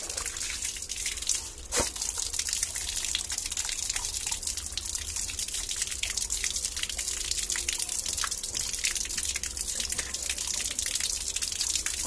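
Tap water running for rinsing, a steady close hiss and splash with scattered drips, continuous for the whole stretch without speech.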